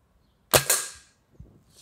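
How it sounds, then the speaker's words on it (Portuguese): A single sharp crack from a Gamo air rifle firing a pellet, close and loud, followed by a brief thud and a faint later knock as it hits a kettle. "Vamos lá, primeiro tiro então com ele."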